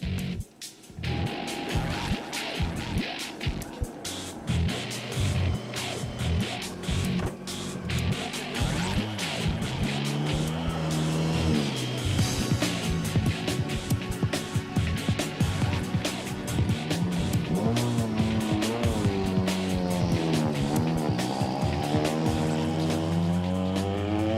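A 2005 Citroën Xsara rally car is driven hard during a test session in Wales. Its engine roars loudly and continuously, rising and falling through gear changes, with tire noise over loose ground.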